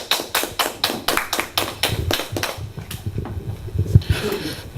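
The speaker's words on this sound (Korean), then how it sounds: "뜨거운 손뼉으로 환영해 주십시오" An audience at a humanities lecture claps to welcome the speaker. Sharp, evenly spaced claps come nearly in unison at first, then loosen into a softer, scattered patter with room noise.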